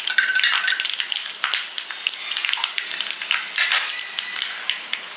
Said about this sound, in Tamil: இப்போ எண்ணெய் காஞ்சிருச்சு. இப்போ நம்ம கடுகும் வெந்தயத்தையும் போட்டுக்கலாம்.